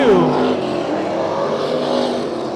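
Race cars at Bakersfield Speedway roaring through a heat race, a loud, continuous engine drone with a pitch sweeping down early as a car passes close, other engines sustained behind it.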